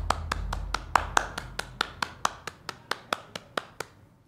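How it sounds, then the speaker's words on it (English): A small group clapping in honour of basketball player Carmelo Anthony on a sports talk show: about twenty sharp, evenly spaced claps close to the mic, slowing slightly and trailing off, alone without talk. "we're going to give a round of applause for Carmelo Anthony"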